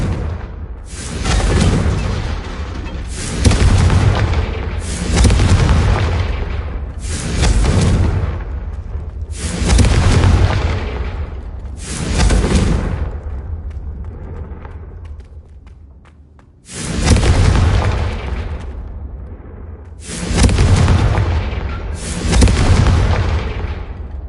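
Repeated Confringo blasting-curse explosions in Hogwarts Legacy on PS5, about eight loud booming bursts in quick succession with a short lull midway, each a heavy thud with a long rumbling tail.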